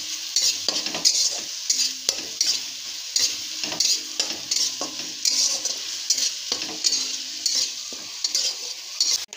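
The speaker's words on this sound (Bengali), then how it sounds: "এটাকে মশলাটাকে ভালো করে ভেজে নিব।" A spice paste with turmeric and salt sizzles in a pan for egg curry while a spoon stirs it repeatedly, scraping and clinking against the metal in an uneven rhythm close by.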